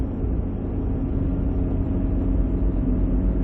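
Engine of a 2006 Ford Escape while driving: a continuous, even mid-low drone with road rumble inside the cabin, steady in loudness and with no one talking.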